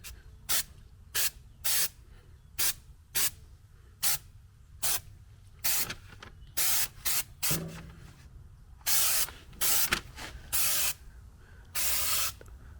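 An oversized spray can nozzle on a street machine project fires off repeated short hissing bursts, about a dozen of them, close and fairly loud, with a few longer sprays near the end.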